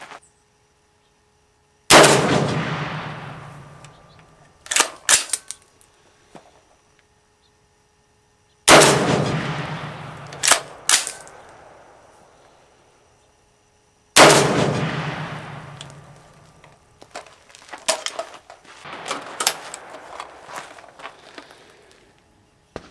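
Three loud, sharp 300 AAC Blackout rifle shots from an 18-inch barrel, loaded with IMR4227 powder, each with a long echoing decay, spaced several seconds apart, with clanks and handling noises after each shot.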